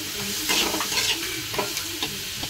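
Ground spices (coriander, cumin, dry red chili, turmeric, salt and Kashmiri red chili powder) being stirred into oil in a frying pan, with a steady close sizzle and repeated scraping strokes of a spoon.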